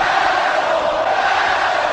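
Packed All-State Arena crowd jeering its general manager, a continuous loud roar of massed voices holding level throughout, broad and nearby.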